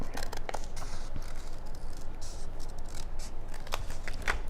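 Scissors cutting a paper shape while a design is being made, a steady run of small snips and crackling paper rustle, close up and continuous, with no talking.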